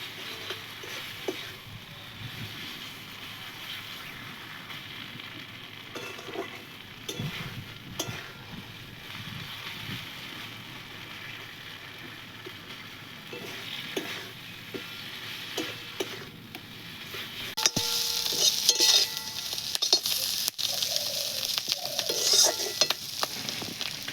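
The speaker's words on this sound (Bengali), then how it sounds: "এটা ঝুড়ো ঝুড়ো না হওয়া পর্যন্ত ভাজতে হবে" Mashed bean paste (sim bata) fries and is stirred in a pan, a steady close sizzle with repeated scraping and tapping strokes of the spatula, growing louder and busier toward the end.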